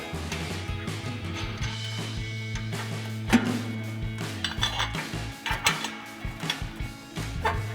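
Metal bolts and flange nuts clink and rattle while an exhaust pipe is fitted to a 2015-2020 Ford F-150 SuperCab, with a steady low hum running underneath and scattered close, sharp taps toward the end.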